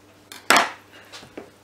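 A knife cutting a bell pepper on a board: one sharp crisp slice followed by a few quieter, shorter cuts, close and isolated in a quiet room.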